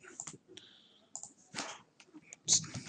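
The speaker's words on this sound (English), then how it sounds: "type the select disk 2 and press enter" Someone types a command on a computer keyboard: a few crisp, close key clicks in short, irregular bursts over about three seconds, with a faint voice in the background.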